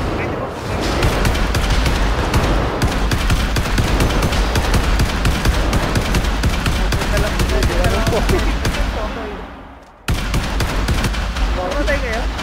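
Continuous rapid gunfire and explosions from an online shooter game, including pistol and shotgun fire, dense and loud for about nine seconds, dipping briefly before the barrage resumes, with players talking over it.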